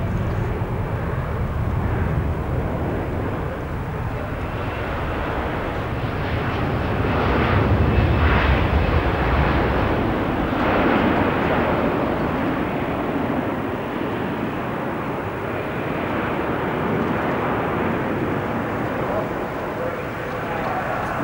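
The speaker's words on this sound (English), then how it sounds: "This is the remarkable Airbus A340." An Airbus A340 airliner flies its display at the Farnborough air show, a broad, loud jet roar that swells and fades gradually over about twenty seconds with a washing, distant rumble and no break.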